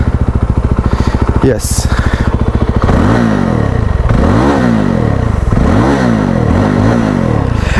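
A 2025 Yezdi Roadster motorcycle's engine, its baffle removable on the top variant, cranks and catches, then idles with a loud, close thump before being revved repeatedly in rising and falling swells; someone briefly speaks.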